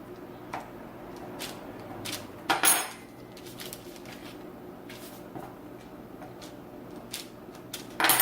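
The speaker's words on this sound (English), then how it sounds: "And then with a fork, we're going to seal it." A fork presses and seals the crust edge of a vegan mini apple pie, making a series of light, scattered taps and clicks with one louder clatter partway through.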